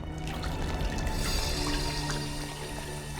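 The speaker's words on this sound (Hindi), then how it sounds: "पानी क्या हुआ? ऊपर से आ रही?" Water dripping and pouring down from above inside a house, a steady close splashing trickle of liquid that runs continuously with no voices.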